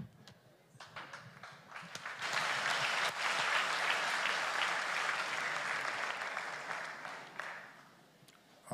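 A church congregation at a Sunday service claps for its drama team, sparse claps building into sustained loud applause that holds steady for several seconds before tapering off.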